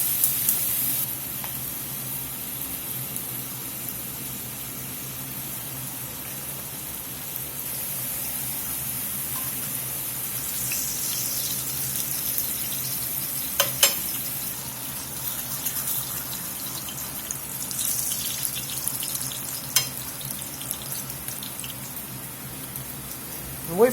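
Corn tortillas frying in a shallow pan, a steady close sizzle and hiss of hot oil running continuously with a few sharp pops, no voices.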